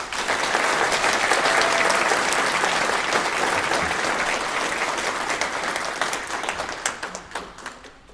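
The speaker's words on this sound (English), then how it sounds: "Let's give them a round of applause" A graduation ceremony audience breaks into dense, sustained applause for program graduates, loud and steady throughout, then slowly thinning toward the end.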